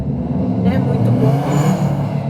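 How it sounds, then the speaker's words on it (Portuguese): A car with a loud, roaring exhaust passes outside a home, its low rumble steady and prominent throughout while a person keeps talking over it. "passou um carro agora com um ronco de escapamento terrível"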